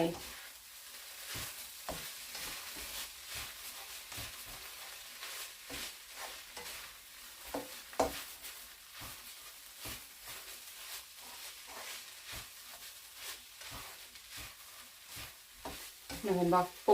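Pork stir-fries in a hot pan with dark soy sauce and chili powder, a steady sizzle broken by repeated sharp scrapes and knocks of a spatula in an irregular rhythm, close and moderately loud.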